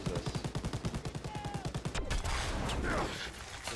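MG42 machine gun in the video game Call of Duty WWII fires a long, rapid, even burst of loud, close shots for about two seconds, followed by a muffled boom and battlefield noise.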